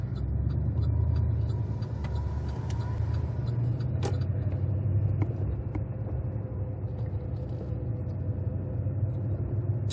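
Car interior while driving quiet downtown streets of Charlottetown, a steady low engine and road rumble with light tyre hiss and an occasional faint tick, continuous and unbroken.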